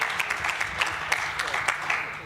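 Brief scattered clapping from an audience during a political speech, a few seconds of steady moderate applause with some voices mixed in.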